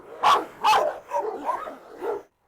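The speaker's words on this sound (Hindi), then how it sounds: "सारे कुत्ते सच में बहुत जोश में आ गए हैं।" A Rottweiler and other dogs bark excitedly up close, two loud sharp barks followed by a run of quicker, softer yips and barks.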